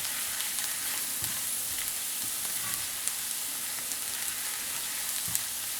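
Garlic, onions and cumin sauté in butter with a steady, close hiss of sizzling, broken by a few faint clicks of stirring.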